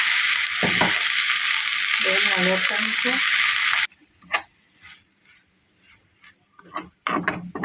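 Tomato pieces fry in a pan for a tomato chutney, giving a loud, dense, steady sizzle for about four seconds. The sizzle then cuts out, leaving quiet clicks and scrapes of stirring.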